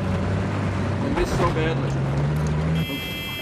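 A jeep's engine drones steadily in a video game, a low rumbling hum with a buzzy tone as it drives, while someone talks briefly over it.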